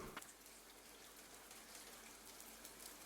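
Steady rain from the Ender Lilies video game, a soft even hiss of falling drops heard alone with no voices, holding at a constant moderate level throughout.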